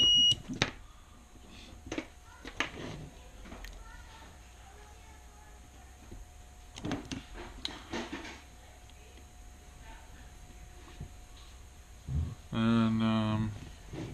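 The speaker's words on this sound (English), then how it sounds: "I'm wondering if that's just beeping because there's not a receiver connected." A ZMR250 quadcopter with no receiver connected emits short electronic beeps, scattered early on, then a louder burst of rapid rising tones near the end over a faint steady hum, with quiet speech between.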